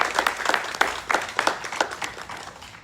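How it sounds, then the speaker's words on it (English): Audience applauding at an outdoor dedication of the Milton horse statue, a thin patter of hand claps of moderate loudness that fades toward the end, with no one speaking. "So we need to give them a big round of applause."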